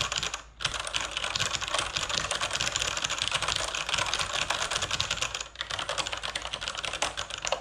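Loud, hollow-sounding clatter of rapid typing on a Kinesis Advantage2 ergonomic keyboard, close up and nearly nonstop, with two brief pauses. No one speaks.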